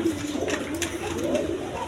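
A pair of Lahori pigeons coo in a loft, soft rolling throaty calls rising and falling close by over low room noise, with no talking.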